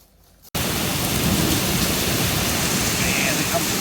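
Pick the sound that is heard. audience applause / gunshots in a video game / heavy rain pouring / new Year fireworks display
heavy rain pouring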